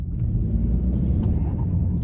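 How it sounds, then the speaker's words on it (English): A 2023 Ford Bronco Sport Heritage Edition with a 1.5 liter three-cylinder engine rumbles low and steady off throttle, a close, loud drone inside the cabin with a few faint crackles and no talk. "even makes a bit of a noise when you let off the throttle,"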